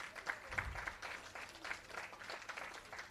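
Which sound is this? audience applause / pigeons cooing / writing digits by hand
audience applause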